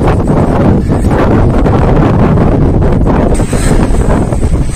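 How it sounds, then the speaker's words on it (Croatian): A strong bora wind on a Croatian hilltop roars and buffets the microphone continuously, a loud, rough rush with gusts that swell and ease. "Puše jak vjetar, bura, pa možda se neće čuti najbolje"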